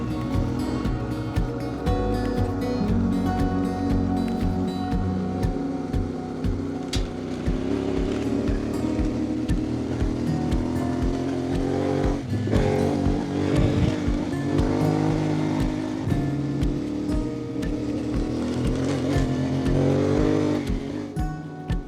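Motorcycle engine pulling hard on a sealed section of a mountain trail near Nundle, a steady loud drone that rises and falls with revs and gear changes, continuous throughout with wind rushing.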